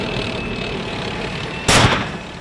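A tank fires at a suicide truck bomb on the road to Mosul: one loud, sudden blast bursts over a constant rumbling engine and wind noise, then fades into the ongoing drone, with no voices.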